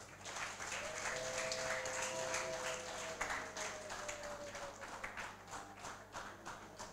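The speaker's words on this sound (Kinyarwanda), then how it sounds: "kandi abasaza mubaha amashyi menshi cyane" An audience at a church wedding ceremony applauds warmly, a dense, continuous patter of clapping with a brief sustained vocal tone rising over it.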